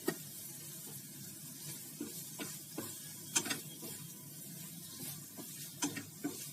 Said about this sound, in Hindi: साथ साथ चलाते रहना पड़ेगा क्योंकि खोया पिघल के जले ना